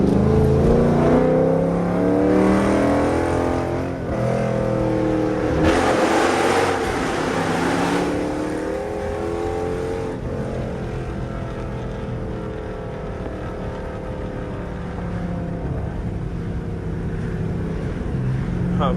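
A 400+ hp Dodge Charger R/T engine roars close and loud, revving and accelerating through rising and falling surges, the throaty exhaust sustained throughout with no talking.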